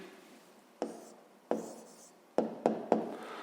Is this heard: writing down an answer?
yes